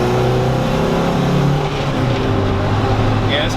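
A Honda Civic EG6 SiR2 engine pulls hard under acceleration, a loud, steady, rising drone heard from inside the car, close and continuous with no break.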